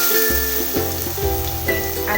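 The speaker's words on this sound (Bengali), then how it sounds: "এবার টুকরো করা আলুগুলোকে ভেজে নেব।" Cut potato pieces frying in hot oil over cumin and dried chilli, a steady close sizzle with occasional soft clinks and stirring taps.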